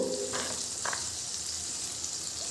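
Water and ground spices sizzle steadily in a hot frying pan for a vegetarian dish, a continuous soft hiss with a few brief louder spits and stirs, close and moderately quiet.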